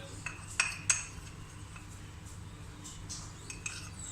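A spoon clinks against a bowl a few times while fruit chaat is mixed with salt and chaat masala, with light sharp taps over a quiet room background.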